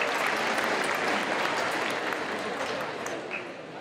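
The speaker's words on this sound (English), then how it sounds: "Everyone give them another round of applause." Audience at an opening ceremony gives a steady round of applause, dense and continuous, fading slightly toward the end.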